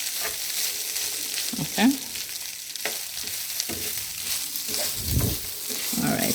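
Turmeric coconut rice sizzles and crackles steadily as it is tossed in a hot pan, with occasional scraping stirs and a brief spoken word over it.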